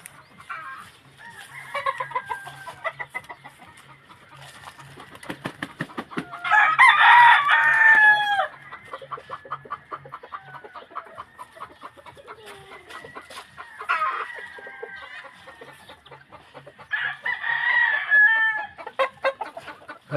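A yard full of hens clucking and chattering nearby, with a couple of loud rooster crows bursting out over the steady clucking.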